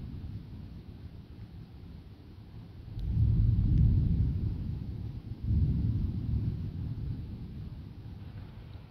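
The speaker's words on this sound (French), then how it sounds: "les coups de tonnerre lourds là" Heavy thunder rumbles through a strong late-summer thunderstorm with light rain falling, rolling in two long, loud, low swells over a steady background hiss.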